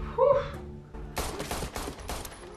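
Gunfire from the action film John Wick, a burst of loud sharp shots starting around a second in amid a dense cinematic soundtrack, preceded by a brief human voice.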